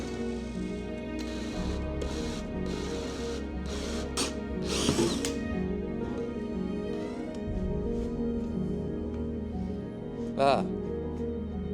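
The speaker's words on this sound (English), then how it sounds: "Let's get drilling." A power drill whines steadily with pitch shifts as it bites into the metal body of a car, accompanied by occasional clunks and brief mechanical bursts.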